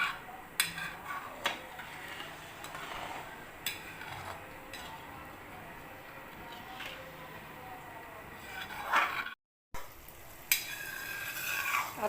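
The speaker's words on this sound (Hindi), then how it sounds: "कढ़ाई में पानी डालकर और आवश्यकता अनुसार चीनी डालेंगे और उसका कतली का पाग बनाएंगे" Water and sugar are stirred into syrup in a metal kadhai, with scraping, swishing spoon strokes repeating irregularly, close by, broken by a brief silent gap.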